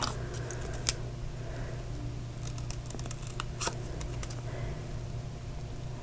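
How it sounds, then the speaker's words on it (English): Scissors fussy cutting around a stamped paper image with straight edges, giving faint, sparse snips and clicks over a low steady hum. "you're just going to cut this out, and this is really easy to fussy cut because it's just straight edges"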